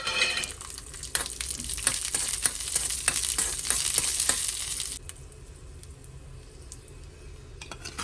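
Cashews sizzle in a hot pan as raisins are tossed in, a close bright crackle with scraping stirs for about five seconds, then the frying drops to a quieter low hiss.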